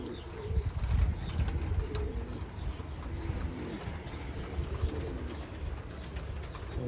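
Pigeons in a coop coo softly in low, rolling murmurs, close and continuous, with light wing shuffles over a steady background hum.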